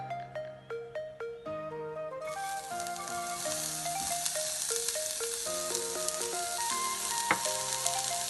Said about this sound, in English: Now I have to fry